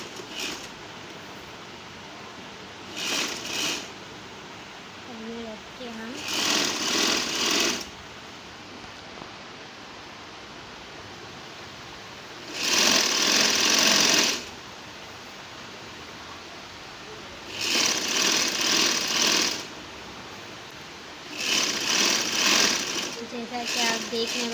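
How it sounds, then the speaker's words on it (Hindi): A sewing machine stitches a kurti sleeve in five separate bursts of a few seconds each, giving a fast, steady whirring buzz between quieter pauses of room noise. "निशान लगाने के बाद अब इसके ऊपर सिलाई लगा देंगे"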